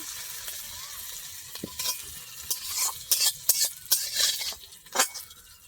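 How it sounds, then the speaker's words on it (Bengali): Hot spice tempering poured onto peeled raw mango and ginger gives a steady sizzling hiss, broken by clinks of a metal utensil stirring against the pan, close and fairly loud. "ফোড়ন রেডি হয়ে গেছে, আমি এখন দিয়ে নেব। এই ছুলে রাখা আমের মধ্যে দিয়ে দিচ্ছি, আম আদার মধ্যে।"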